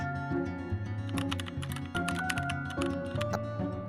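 Typewriter keys clack in quick, uneven bursts over a steady low musical bed, the strikes close and moderately loud throughout with no talking.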